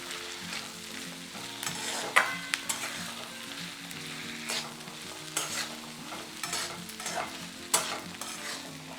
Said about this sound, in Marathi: ह्याच्यामध्ये आता हे बीन्सचे तुकडे टाकून घेऊ। आता हलवायचं असं सगळं